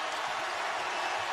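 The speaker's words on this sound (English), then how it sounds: "Crowd coming to life here as Kentucky's got it to 2." A basketball arena crowd at a UCLA vs. Kentucky college game roaring and applauding, a dense, steady wash of cheering noise filling the whole moment without a break.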